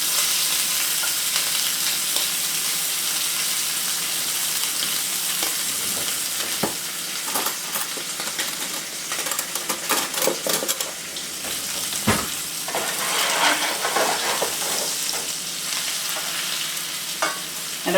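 Steak sizzling loudly in a pan with melted butter while being basted, a constant close hiss with scattered spoon scrapes and clinks, no one speaking.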